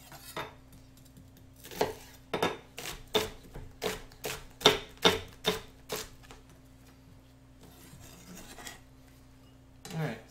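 A knife chops white onion on a board in a home kitchen. A quick run of sharp, evenly spaced strikes is followed by a pause and one more cut, and no voices are heard.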